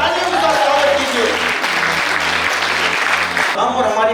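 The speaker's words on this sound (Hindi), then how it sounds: "तालियों के साथ स्वागत कीजिए।" Audience applause fills an astrology convocation and student event, a dense steady wash of clapping under loud tonal music, ending abruptly near the close.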